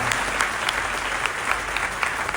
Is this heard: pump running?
no